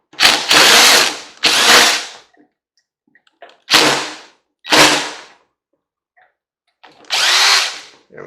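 A power tool, likely a 1/4 inch driver, works loose the field winding on a vintage hair curler in short loud bursts: two quick runs, a pause, two more, then a final burst.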